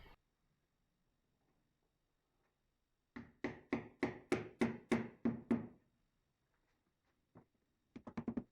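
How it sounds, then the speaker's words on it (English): A rubber mallet taps wooden dowels into their holes, a quick run of about eight evenly spaced dull knocks, then quiet, then a few more rapid taps at the end; close and fairly crisp with no talk. "I am using a rubber mallet to tap the dowels into their holes"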